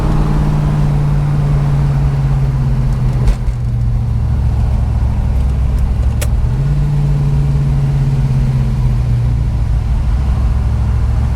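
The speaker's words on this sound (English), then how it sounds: "We're cruising at probably, I would say, 45 miles an hour at 2200 RPMs." A 1965 Dodge Coronet cruises at about 45 mph and 2200 RPM, its engine a steady loud drone with road noise, one brief dip partway through, in traffic late in the day.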